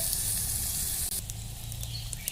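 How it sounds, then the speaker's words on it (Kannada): Ginger garlic paste sizzles in a pan over a wood-fired clay stove while a kadalekalu palya is cooked, giving a steady, close, hissing crackle with no pauses and no talking. "ಶುಂಠಿ ಬೆಳ್ಳುಳ್ಳಿ ಪೇಸ್ಟ್ ಹಾಕತ್ತೀನಿ"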